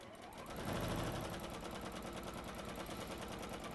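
Sewing machine stitching down a fabric dart toward its point, a steady continuous motor whir with rapid needle chatter that swells early and holds level throughout.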